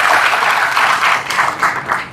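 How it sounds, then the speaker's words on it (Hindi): A roomful of MBBS students at a college lecture in India applauds a classmate, with loud, steady, dense clapping that runs the whole time without a break. "ताली बजाओ इस बच्चे के लिए"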